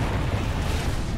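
A monster in Monster Hunter World bursts out fire in a dense, roaring blast that fills the moment, loud and close with a continuous rumbling crackle and no talking.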